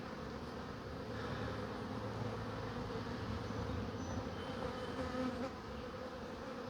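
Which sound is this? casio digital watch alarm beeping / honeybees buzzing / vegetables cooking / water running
honeybees buzzing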